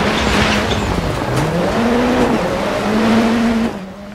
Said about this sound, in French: accrocher le vibreur avec cette voiture est un pur régal de la faire glisser